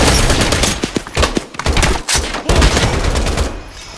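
Rapid bursts of gunfire crackle loudly in a first-person shooter game, several volleys of close shots packed together, with a headshot landing among them, before the noise tapers off.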